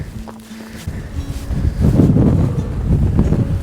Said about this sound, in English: Wow, it's really blowing.